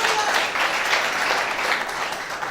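A congregation claps together during a Sunday church worship service, a steady, dense wash of applause filling the room from start to end at close, loud level.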